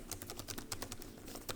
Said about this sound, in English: You can tell that they utilize the scissor switches and the keyboards. Very nice and clicky.